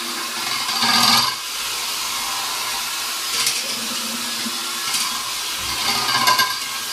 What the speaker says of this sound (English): it just sort of cleans all the inside, all the way up the keg